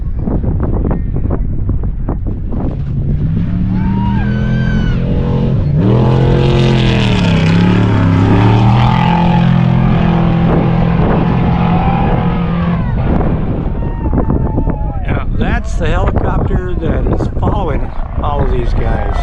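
Desert race vehicles in a Las Vegas to Reno off-road race roar closer and pass with a swelling engine drone through heavy wind buffeting on the microphone, while a person talks over it.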